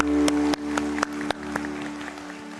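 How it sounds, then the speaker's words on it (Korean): A church congregation claps in praise to God during a Wednesday prayer service, a dense, steady patter of hands over sustained keyboard tones with a few sharper claps standing out. "우리 하나님께 영광의 박수 올리겠습니다"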